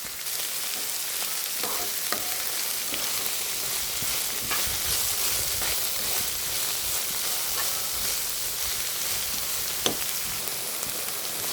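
Okra sautéing with onion, green chilli and garlic in a pan gives a steady, close sizzle and hiss throughout, with a few faint clicks of stirring and no talk.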